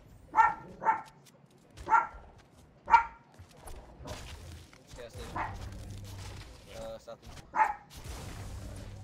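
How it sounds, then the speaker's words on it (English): A dog barks indoors in a series of sharp, fairly close barks, evenly spaced at first and then more scattered, with some background noise between them. "This dog really still barking?"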